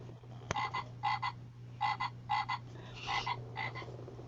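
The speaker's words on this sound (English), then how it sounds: "I also wanted to show you LaDonna's pet frog." A pet frog croaks in repeated paired bursts, a steady rhythmic series of short nasal calls over a constant low hum, close and fairly loud with no talking.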